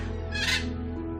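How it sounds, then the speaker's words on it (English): Blue and gold macaw giving a greeting call, one short raspy squawk peaking in the middle, heard alone and close over a steady low background hum. "my blue and gold macaw gave out the macaw greeting call"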